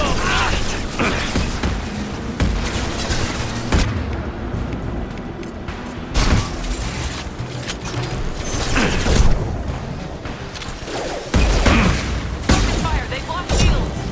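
Gunfire in a firefight in the video game Mass Effect 2, with dense bursts of shots, mechanical clanks and booms running continuously under shouted character dialogue.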